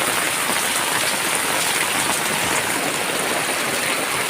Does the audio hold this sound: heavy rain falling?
yes